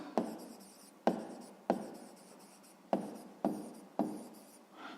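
A pen writes on paper while an answer to a fifth-grade math exercise is worked out: about six short, close scratching strokes, each starting sharply and trailing off, with no talking.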